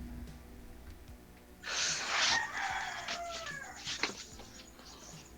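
A rooster crows loudly a short distance away over a quiet outdoor background, followed by softer clucking.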